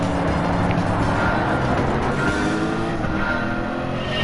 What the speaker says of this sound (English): This is the Super GT engine swap car.